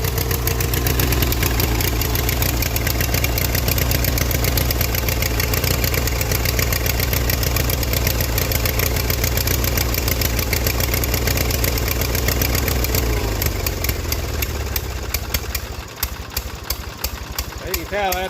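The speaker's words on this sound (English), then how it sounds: "tractor's not running right." A John Deere 420 tractor engine idles roughly and unevenly, a loud, close, throbbing chug that runs steadily before dropping away near the end, with someone talking over it.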